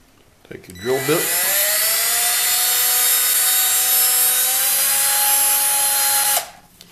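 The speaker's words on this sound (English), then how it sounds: "Drill that epoxy out of there and do it again." A drill bit bores epoxy out of a model organ conductor part, giving one loud, steady, high whine that holds for about five seconds before stopping abruptly.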